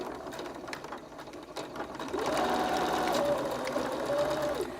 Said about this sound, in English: So I'm going to stitch off the end here because I'm chain stitching